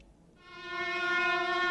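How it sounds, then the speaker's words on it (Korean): A train horn or whistle swells from silence into a sustained, steady blast as the train departs, loud and alone with no voices. "열차가 출발합니다."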